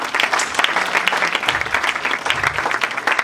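Loud, dense applause and cheering from a church audience welcoming evangelists to the stage, sustained throughout with whoops and crowd noise layered over the clapping.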